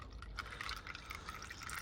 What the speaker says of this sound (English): that's just draining more oil out from the sump